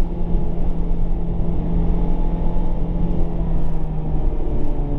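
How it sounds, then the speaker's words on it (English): A brand new 2017 Honda Civic Type R on the race track at Ridge Motorsport Park, its engine a loud, steady droning roar heard from inside the car, with no talk. "it's time to see what the Type R can do on track"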